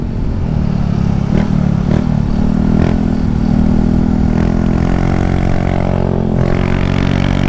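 A motorcycle engine revs hard at full throttle while riding a long year-end road ride in Lantapan, Bukidnon, producing a loud, steady drone that climbs in pitch, with wind rush and faint clatter throughout.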